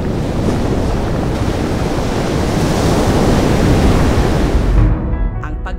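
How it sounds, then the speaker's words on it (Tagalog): Sea waves wash steadily onto a shore, a loud continuous roar of surf mixed with wind buffeting the microphone, easing off in the final moments. "Kung saan ang tunog ng dagat, musika sa tenga."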